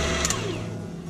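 An electric mixer beats orange cake batter in a bowl, its motor giving a steady, close whirring drone throughout the short stretch, with no talking.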